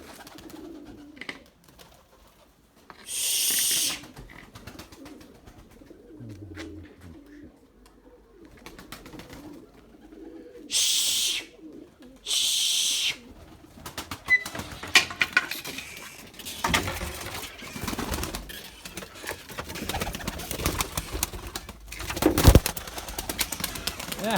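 Pigeons at a loft coo softly throughout, with several loud bursts of wing flapping and a person occasionally speaking nearby.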